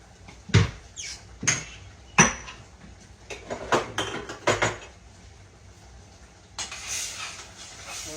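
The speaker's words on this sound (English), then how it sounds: "let's wash off our chopping block" Dishes and a wooden chopping block clatter and knock in a sink, with several sharp bumps and scrapes followed by a short rush of running water near the end.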